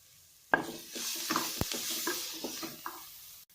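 Vegetables for fried rice, including capsicum and spring onions, fry in a pan with a steady close sizzle, punctuated by sharp clacks and scrapes of stirring, no voices.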